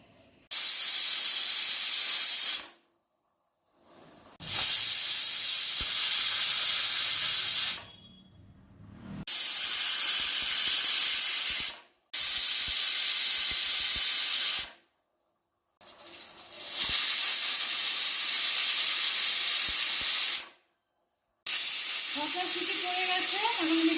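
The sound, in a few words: pressure cooker hissing steam on a gas stove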